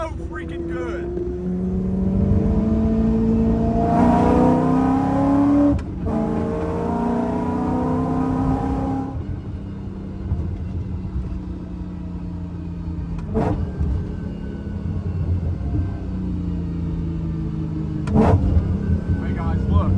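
A car engine revs steadily while driving in Thailand, its loud, rough drone rising and falling with gear changes and sharp drops in throttle, heard from inside the cabin.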